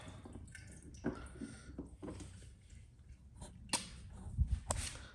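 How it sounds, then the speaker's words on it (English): Water drains from a portable folding mini washing machine, a quiet trickle with scattered drips and splashes, a few louder knocks and gurgles standing out against the soft flow. "water is draining out"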